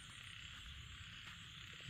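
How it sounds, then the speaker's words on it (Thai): Frogs croak in a faint, steady chorus during rainfall, blended with a constant soft hiss of rain and distant background noise. "โอ้เสียงกบเสียงเขียดนะ"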